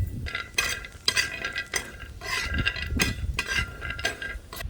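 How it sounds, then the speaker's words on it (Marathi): Almonds roasting in ghee while a spoon stirs them, giving a close, steady sizzle broken by scraping and clinking of the utensil against the pan. "आता हे बदाम आपण तुपात जरा भाजून घ्यायचं"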